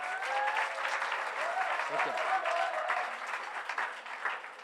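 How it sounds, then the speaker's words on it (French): An audience applauds Mathias with a dense, sustained round of clapping that fills the whole stretch, while a voice speaks briefly over it. "On peut applaudir Mathias"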